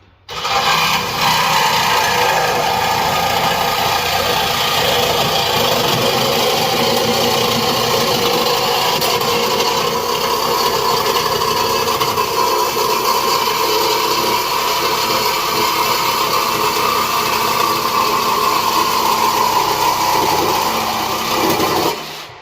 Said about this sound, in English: I use a reciprocating saw.